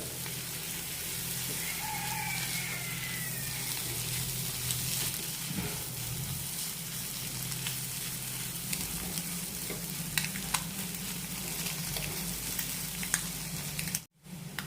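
Roasted eggs and salt are stirred into hot masala for a garlic egg roast, giving a steady close sizzle and frying hiss with soft scraping as the mixture is tossed in the pan.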